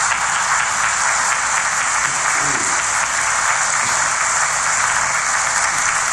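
Large audience applauding at a public speech, a dense, even wash of clapping that holds steady throughout at high level, with a faint voice briefly audible in the middle.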